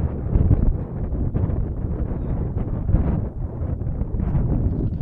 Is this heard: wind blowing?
yes